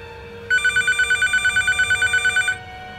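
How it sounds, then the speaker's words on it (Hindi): A telephone rings with a rapid electronic trill, one long burst of about two seconds, clear and close against a quiet room. "नेथन डिनीज को फ़ोन करता है।"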